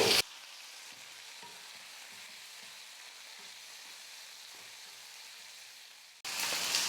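Onion and tomato sauté in a pan for a fish kuzhambu, giving a steady close sizzle that runs evenly throughout, with louder brief bursts at the very start and end.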